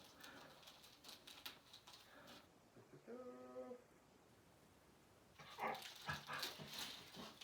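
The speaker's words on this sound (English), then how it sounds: "my dog Milo, who decided to join me for the filming today and is now sneezing during the show" A dog snorts and sneezes faintly in the background, with a short whiny, whimper-like sound in the middle and a burst of sharper sneezes near the end.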